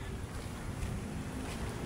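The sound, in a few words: sea waves at Manila Bay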